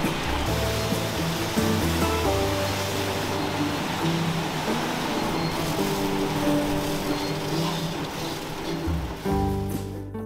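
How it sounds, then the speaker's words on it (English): In an apple juice processing factory, a 90-ton stream of recycled water rushes steadily through channels carrying apples, a dense continuous roar with machinery hum underneath, loud and unbroken. "90-ton stream of recycled water is used to funnel the apples into four water channels"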